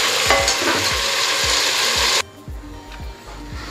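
Tomatoes and masala frying in a pan for mutton biryani, with a loud steady sizzle under a rhythmic scraping of a spatula, the sizzle abruptly dropping away to leave softer scrapes and stirring.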